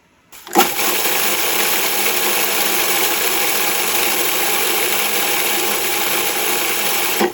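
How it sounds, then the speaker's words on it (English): A blender whizzes Parmesan cheese and breadcrumbs for meatballs, starting abruptly and running as a loud, steady, close whir for about seven seconds before cutting off. "So now I'm just going to whiz that up and then we will put that into our meatball mix."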